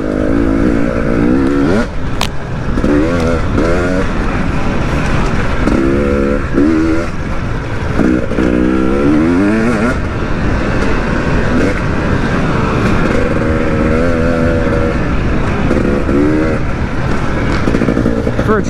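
A 2022 KTM 300 XC two-stroke dirt bike rides steadily in third gear, its engine droning loud and close with rising and falling revs throughout, while a rider's voice talks over it at times.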